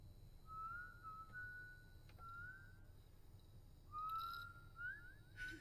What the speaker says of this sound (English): So someone's whistling.